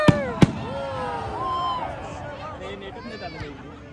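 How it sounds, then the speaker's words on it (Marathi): Diwali firecrackers burst nearby: two sharp, loud bangs close together at the start, followed by a crowd chattering and people talking. "ए सुतळी बॉम्ब घेऊन या."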